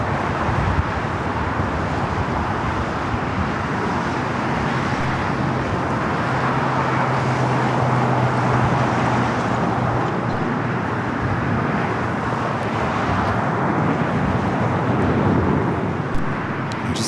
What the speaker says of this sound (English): Virgin Atlantic Flight 8 heading back to London Heathrow, now taking off on the north side, 24 left.